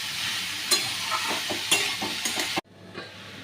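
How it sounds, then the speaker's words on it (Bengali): Chunks of ash gourd frying in hot oil, sizzling steadily while being stirred with a few scraping strokes, close and fairly loud, before the sizzle drops off sharply near the end. "কুমড়োটা এবার এই তেলের মধ্যে দিয়ে দেব। দিয়ে এটাকে নাড়ব।"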